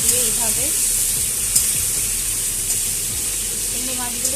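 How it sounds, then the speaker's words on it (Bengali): Prawns coated in salt and turmeric frying in a pan for a curry with suran, a loud continuous sizzle with scattered clinks of a spatula stirring, plus brief faint voice-like sounds. "সব চিংড়ি মাছগুলো ওর মধ্যে দিয়ে দিলাম। দিয়ে এইভাবে নেড়ে চেড়ে নেব।"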